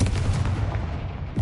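A Confringo blast spell in a Hogwarts video game bursts as a short, heavy boom with a rumbling low tail that fades over about a second and a half.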